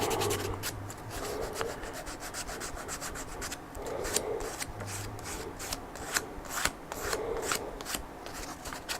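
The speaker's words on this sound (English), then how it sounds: "I'm going to grab some 220. It's a little piece of 220 right here. And I'll just kind of fine sand it." Fine hand sanding with 220-grit sandpaper on a model aircraft build, a soft, steady scratchy rubbing in quick back-and-forth strokes, faint and close with no talking.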